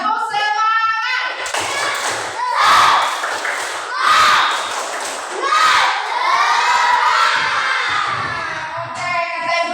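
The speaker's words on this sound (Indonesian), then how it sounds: "Tepuk semangat." Schoolchildren in a classroom lesson repeat the 'tepuk semangat' spirit clap: a loud, rhythmic group chant with cheering and scattered claps, swelling in waves, framed by an adult speaking briefly at the start and end.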